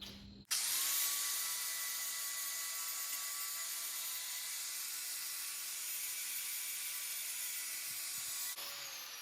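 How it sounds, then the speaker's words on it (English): An angle grinder cuts into a steel Jeep exhaust pipe during a muffler delete, a steady high-pitched whine and grinding screech holding close and loud for about eight seconds before cutting off abruptly. "So I might just try to grind this down some and see if I can coerce that on."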